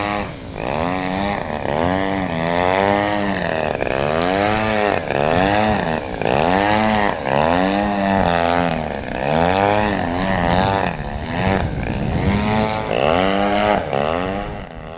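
A radio-controlled 3D aerobatic aircraft engine drones loud and continuous, its pitch swinging up and down in steady repeated waves as the throttle is worked constantly, with no voices.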